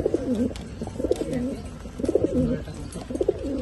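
Racing pigeons coo close by in repeated rolling, throaty phrases, several bursts following one another over a faint background of talk.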